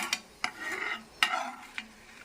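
Dried red chillies being stirred and lifted out of a pan of hot oil: four sharp spoon scrapes against the pan over a soft, continuous sizzle, close and moderately loud.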